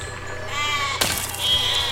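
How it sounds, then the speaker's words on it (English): A sheep in the Besiege video game gives a wavering, nasal bleat, then a second, shorter bleat follows over a low rhythmic mechanical hum. "Oh dear, the sheep."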